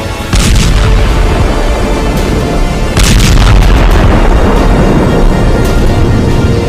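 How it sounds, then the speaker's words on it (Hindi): Heavy booming blasts of Hezbollah rockets striking Haifa, a couple of sharp bursts among a dense, continuous rumble of explosions, loud and close with no talking. "हिजबुल्लाह के रॉकेट धमाके हाइफा में हाहाकार मचा रहे हैं।"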